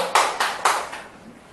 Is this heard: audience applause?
yes